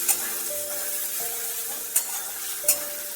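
A sour hog plum dish with poppy seeds, salt and turmeric sizzles softly in a pan. Three distinct scraping clicks come from a spoon stirring it, over a faint steady hum.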